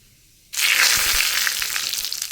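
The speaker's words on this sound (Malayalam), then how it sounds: "ഞാനിനി കടുക് വറക്കാൻ പോവുകയാണേ." Mustard seeds hit hot oil for a lentil curry, bursting into a loud, sudden, continuous sizzle with crackling pops that carries on steadily after the quiet start.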